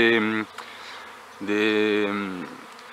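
Honeybees from a swarm that has settled on the ground buzz loudly close by, with two strong droning passes separated by a quieter stretch of background hum.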